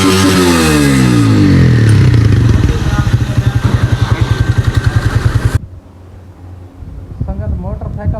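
A Honda motorcycle engine, fresh from a service, revs loudly up close, rising and falling before settling into a rapid idle that cuts off abruptly, with voices talking near the end.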